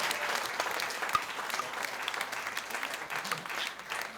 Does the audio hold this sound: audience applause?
yes